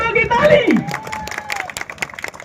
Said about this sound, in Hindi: तुषार सोरेन के लिए जोरों की ताली